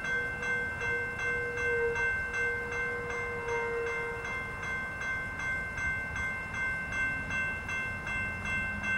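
Amtrak passenger train passing westbound at Gilmerton, a steady rolling rumble with a sustained horn tone sounding in the first half, heard from trackside without speech.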